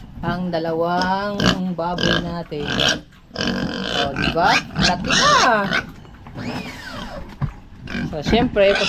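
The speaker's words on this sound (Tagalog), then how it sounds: "Yan ang dalawang baboy natin." Two pigs on a small farm grunt and snort close by, loud and continuous, mixed with a person talking over them.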